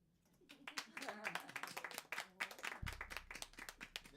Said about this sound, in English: You guys need to give yourselves a round of applause.